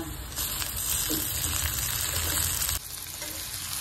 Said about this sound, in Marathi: आता आपण त्याच्यामध्ये टोमॅटो टाकून घेऊया